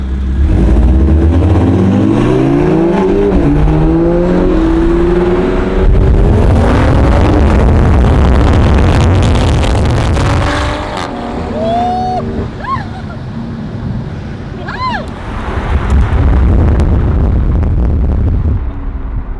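A Toyota MK5 Supra accelerates hard from a 20 mph roll, its engine note climbing loudly and then fading as it pulls away, with wind rush and voices talking throughout.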